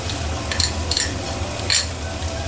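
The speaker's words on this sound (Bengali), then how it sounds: "এটাও একটু ভালো করে ভাজা ভাজা হোক।" Cashew and melon seed paste sizzles steadily in a pan for a Bengali vegetarian dish, with a few soft scraping stirs breaking through the constant frying hiss.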